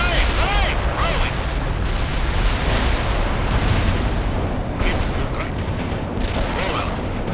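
Artillery fire booms and rumbles throughout a World in Conflict battle, dense overlapping blasts and crackling gunfire that keep the level loud and continuous from start to finish.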